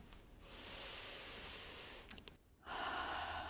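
Breaths drawn during a chair yoga session set by the ocean: a long, soft inhale, a short pause, then a louder rushing exhale, close and alone.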